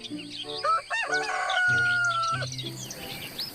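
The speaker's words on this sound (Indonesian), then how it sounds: "Wadidaw, muncul seekor ayam jago." A rooster crows once, loud and close, with a long drawn-out call that rises and then trails off, followed by a few brief chirps and no speech.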